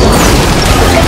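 A loud, dense crashing blast from the Honor of Kings mobile game as a turret is destroyed, a broad smashing boom with debris-like rumble filling the whole moment, no talk over it.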